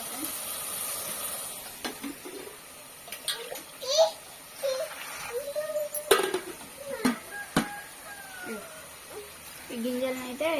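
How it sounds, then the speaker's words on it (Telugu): A cooking pot is washed by hand, with water splashing, metal clanks and scraping in bursts, while people talk nearby, including a child. "ఇప్పుడైతే గిన్నెని కడిగేసేస్తాను"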